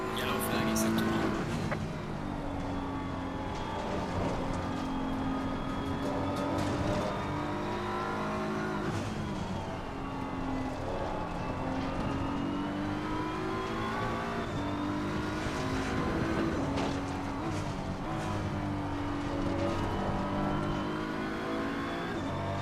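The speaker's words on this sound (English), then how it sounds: "It's another car going around." Race cars roar past on track in Assetto Corsa Competizione, a continuous loud engine note with shifting revs and occasional tire squeal, while a person talks over it.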